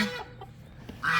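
Chickens cluck close by in a short, soft burst on a morning outdoors, with a few low throaty clucks and a brighter call at the end.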